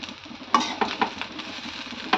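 Soft scraping and clinking of a spoon stirring cooked rice into tempering in a pan for raw mango pulihora, with faint sizzling underneath and a few sharper taps.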